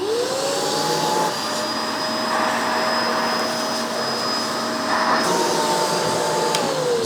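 A Vacmaster Respira Lift Off Pet bagless vacuum cleaner runs on maximum suction over breadcrumbs ground into carpet, giving a steady, loud whining roar with a high motor tone. The pitch shifts slightly near the end.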